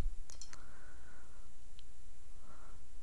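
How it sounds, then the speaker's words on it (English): Two sharp clicks of a computer mouse while opening a photo, quick and close, with a faint later tick over a steady hum and no voice. "I'm going to click on the first image here."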